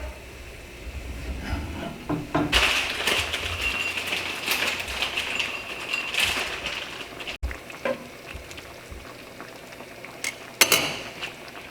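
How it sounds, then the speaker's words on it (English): Beef stock stew with vegetables and herbs simmering in a pot for shepherd's pie, a steady low bubbling hiss close by, with a few clinks and a louder burst of sizzle midway. "So just let it simmer away."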